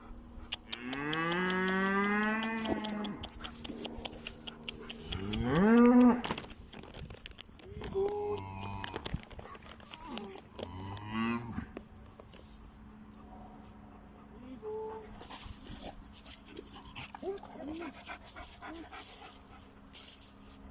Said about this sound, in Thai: ให้อาหารวัวนะคะ